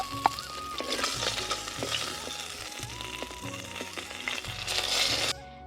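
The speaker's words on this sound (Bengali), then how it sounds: "আমার এখানে মাছটা ভাজা হয়ে গেছে। এখন আমি এই যে মাছটা তুলে নেব" Fish frying in hot oil in a pan gives a steady, close crackling sizzle throughout, broken by scraping stirs and occasional clinks.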